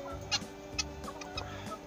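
Backyard chickens cluck in short, excited bursts, several quick calls spread across a couple of seconds, close by over a low steady background hum.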